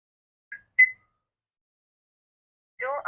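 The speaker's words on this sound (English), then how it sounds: "Once you press any number on the keypad, it will light up, and then you can simply put your code in." A smart door lock keypad gives two short electronic beeps as a code is entered, followed by a brief synthetic voice announcement, all crisp and close.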